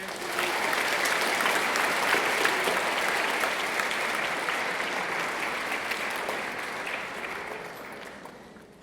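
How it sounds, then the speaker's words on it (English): Sustained, dense applause from a school audience at an academic awards ceremony, a loud steady wash of many hands clapping that holds for the whole stretch and eases slightly toward the end. "For another round of applause for Tyler."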